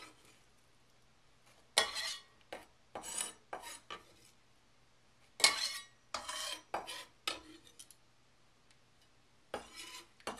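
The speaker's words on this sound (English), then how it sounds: "I'm going to add all this chopped onion" Chopped onion tips into a jerky marinade of salt, curing salt and sugar for chipotle venison or beef, giving several brief close rustling, scraping bursts with quiet gaps between them and no talk.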